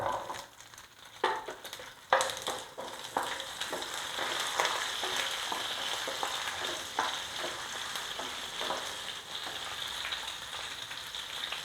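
Shallots hitting hot oil in a pan with pepper, cumin and garlic for a Tamil fish curry, a few sharp clatters as they drop in, then a steady frying sizzle with occasional stirring.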